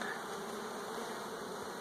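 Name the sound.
bees buzzing around a hive feeder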